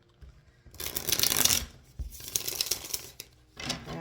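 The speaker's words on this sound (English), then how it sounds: "Very nice, smooth shuffles." Tarot cards are shuffled by hand up close in three quick riffling bursts, crisp papery flutters with short gaps between, no voices.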